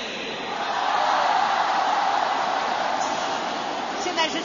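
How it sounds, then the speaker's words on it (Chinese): Audience applause and crowd roar in the Capital Indoor Stadium during a Beijing 2008 Olympic women's volleyball match between China and the USA, a broad swell that rises, holds loudly and fades slightly. "大家响起了热烈的掌声。"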